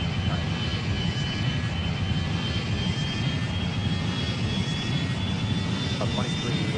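Airliner engines roaring at full thrust during takeoff in the mobile game Airline Commander, a dense steady rumble with a faint rising whine, heard alongside radio-style chatter.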